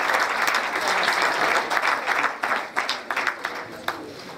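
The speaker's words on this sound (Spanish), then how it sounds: "Fuertes aplausos para don Manuel Carpio, por favor." An audience at a tribute concert gives sustained, dense applause for an honoree, loud and steady at first, then thinning into scattered separate claps toward the end.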